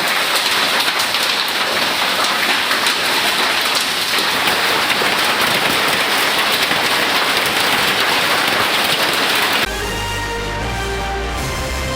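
Heavy rain with hail, a dense, loud, continuous roar of drops pounding surfaces outdoors, steady throughout before cutting off abruptly near the end.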